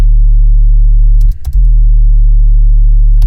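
A heavily distorted 808 bass made in Ableton for hip hop drones loud and steady through most of the passage, cut by a brief dropout near the middle and then continuing alone.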